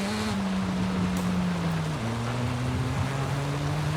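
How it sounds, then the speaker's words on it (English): A dirty, beaten-up Mazda RX-7 with a rotary engine idles and revs in Forza Horizon 5, giving a steady, loud drone whose pitch steps down and then holds, with no talk over it. "Very dirty, very beaten up, but you can hear that rotary engine."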